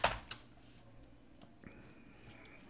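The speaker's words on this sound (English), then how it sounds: "I'll just have to type it again." A few sparse computer keyboard keystrokes land at intervals, quiet and close, with a faint steady tone in a quiet room; no talking.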